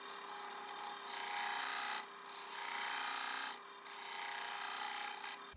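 Wood lathe spinning a large Goldfield burl of about 30 kg while a tool takes a light final cut, giving a soft, steady rasping scrape in three long passes with short gaps, fairly faint and without voices.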